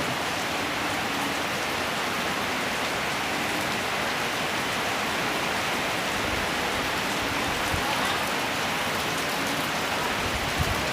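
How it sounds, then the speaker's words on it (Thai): Heavy storm rain pours steadily in a dense, even hiss, drumming on surfaces around a house without pause. "อยู่บ้านผม ทำเสร็จก็ฝนตกเลย"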